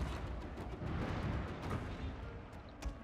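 Heavy gun artillery in a Shogun 2 multiplayer battle, a dense, faint rumble of repeated booms and cracks rolling on without pause.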